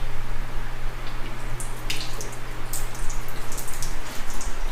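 Water runs and sheets off a car's passenger-side quarter panel freshly coated with P&S Bead Maker, a continuous close splash and drip patter over a low steady hum.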